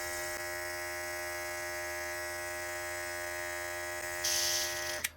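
A no-name SprayGunner cordless airbrush motor whines steadily and close by, a constant buzzing hum that jumps to a higher, brighter pitch near the end as it kicks up to high speed, then cuts off.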